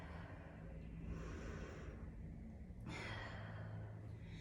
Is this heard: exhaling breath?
yes